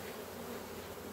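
Honeybees from a colony being cut out of a semi-detached house, a dense, continuous buzzing hum filling the whole moment at an even level, with no voices.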